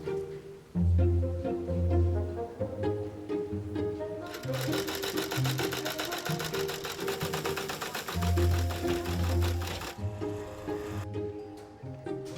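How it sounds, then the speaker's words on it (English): A sewing machine stitches pieces of leather for a Second World War jacket repair, running in steady rhythmic bursts with brief pauses between runs, loud and close with no voices. "I can go ahead and sew them on the sewing machine"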